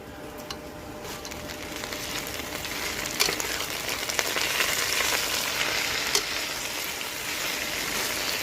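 Fresh wild mustard greens dropped into a pan of oil with browned onion and garlic, hissing and sizzling steadily and growing louder, with a few sharp spits and pops and no talking.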